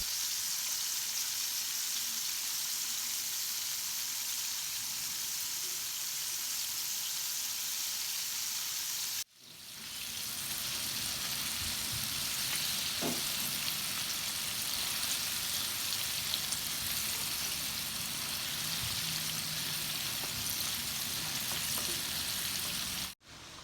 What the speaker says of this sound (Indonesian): Goreng ayam dengan api sedang hingga berwarna kecoklatan